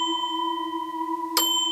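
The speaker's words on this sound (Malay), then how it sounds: "loceng berbunyi lagi buat kali ketiga di tempat yang sama" A bus bell used as a horror story sound effect: a sustained bright ringing tone holds steady, then a short metallic strike lands near the end, moderately loud with no talk.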